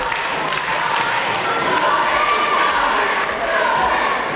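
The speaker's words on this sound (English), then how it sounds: "Electrifying crowd we have here this evening." Crowd cheering at a live wrestling show in Southampton Guildhall, a sustained roar of shouts and cheers from a packed hall, steady and loud, with some clapping mixed in.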